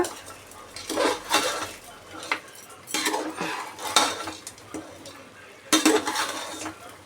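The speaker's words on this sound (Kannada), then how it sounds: "ಇವಾಗ ಇದಕ್ಕೊಂದು ಮಿಕ್ಸ್ ಕೊಟ್ಟಿದ್ದೀನಿ" A spoon scrapes and clinks around a metal pot of mutton gravy in bursts of stirring, with a soft sizzle underneath and faint kitchen background between strokes.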